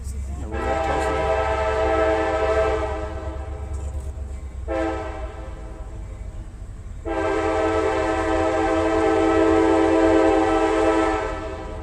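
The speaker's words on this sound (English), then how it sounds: "as the train makes its way right next to Chambers Field" Train horn blasts as a train passes right next to a baseball field, two long loud sustained honks separated by a short gap, with the rumble of rail cars underneath throughout.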